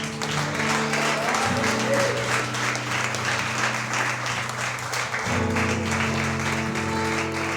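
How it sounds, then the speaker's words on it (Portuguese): Church congregation applauding for Jesus during a sermon, the clapping loud and sustained throughout while sustained organ or keyboard chords play underneath. "Você pode aplaudir a Jesus?"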